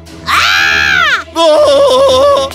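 A loud, sustained scream from a woman, then a second wavering shriek after a brief pause, both high-pitched and close.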